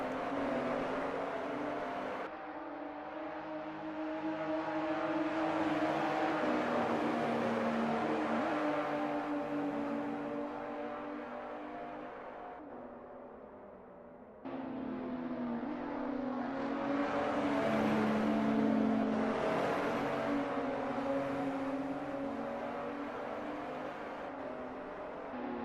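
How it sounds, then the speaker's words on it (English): Race car engine in a sim racing game round at Barcelona, a loud sustained roar that rises and falls with revs across two long pulls, dropping off briefly before surging again, with no talk over it. "Some interesting sound there from Igor's engine."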